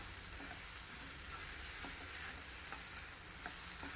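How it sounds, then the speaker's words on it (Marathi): Grated sweet potato sautés in a pan and gives a faint, continuous sizzle with a few soft scraping taps of stirring, with no talk. "आता हे परतून झालंय"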